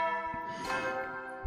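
A bell chime rings out for the morning announcement in The Hundred Line Last Defense Academy video game, a sustained ringing tone that decays over more than a second, with no talk over it.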